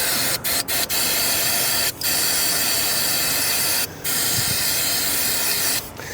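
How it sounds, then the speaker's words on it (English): Brake cleaner sprays from an aerosol can onto car engine parts on an Audi TT under repair, a loud, close, continuous hiss broken by a few short pauses. "So I'm just going to use some brake cleaner."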